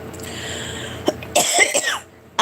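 A person coughs several times in short, harsh bursts, with a throat-clearing quality, close and fairly loud. The coughs come from someone with year-round allergies, in a quiet indoor setting with no talking.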